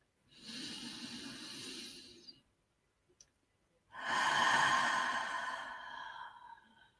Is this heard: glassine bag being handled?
no